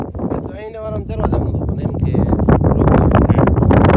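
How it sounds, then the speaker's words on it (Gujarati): Gusty wind buffets the microphone in an open farm field with low rumbling bursts while a person talks over it, the roar building stronger toward the end. "અત્યારે શું ખુલ્લું ખેતર છે એટલા માટે પવનનો અવાજ તમને આવતો હશે"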